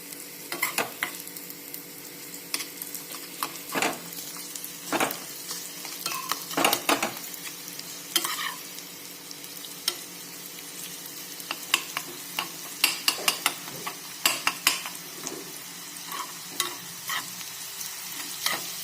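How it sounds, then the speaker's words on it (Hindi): Dried dates frying in a pan for a traditional Dogra sweet milk madra dish, with a steady sizzle broken by scattered sharp scrapes and clinks from stirring. "छुहारे फ्राई करेंगे स्वाद और बढ़िया आता।"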